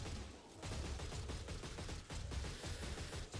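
Rapid gunfire in Oddworld: New 'n' Tasty mows down creatures, a dense, continuous burst of overlapping shots with low booming thuds, steady and loud throughout.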